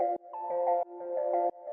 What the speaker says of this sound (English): quarter note sidechain kind of sound